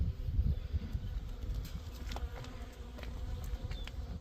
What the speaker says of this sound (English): These are almost all worker bees